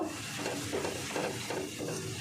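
Turmeric being stirred into spices frying in a pan, heard as a steady close sizzle with soft scraping strokes repeating throughout.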